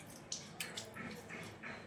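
A new stone mortar and pestle is rinsed with water, giving faint, close drips, small splashes and squishy wet rubbing in a quiet setting with no voices.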